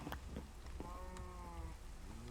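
Cows low in the Minecraft video game, a drawn-out moo with a couple of shorter lows and soft game clicks around it, fairly quiet and without talking.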